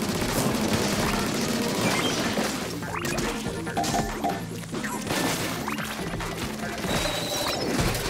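Gatling weapon firing in Splatoon 3, a dense, sustained barrage of rapid loud shots and impacts that hardly lets up across the whole stretch.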